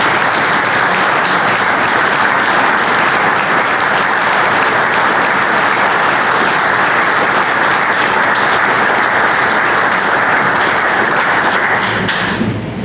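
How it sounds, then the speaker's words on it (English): Audience gives sustained, loud applause after a talk, dense clapping filling the room steadily and fading out at the very end. "How about a round of applause for Nathan?"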